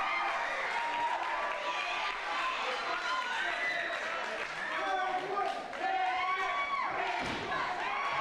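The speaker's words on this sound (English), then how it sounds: "Crowd awaiting the arrival of Johnny Gunn." Wrestling arena crowd waiting for Johnny Gunn's arrival, a dense continuous roar of chanting, shouting and cheering with scattered thumps, loud throughout, with voices talking over it.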